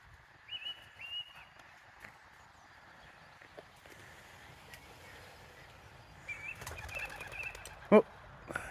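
Racing pigeons released for the first old-bird race of 2025, heading from Beauly toward Wick, Thurso and Caithness, give soft scattered wing flaps and faint whistling in the open air, rising to a louder flurry near the end.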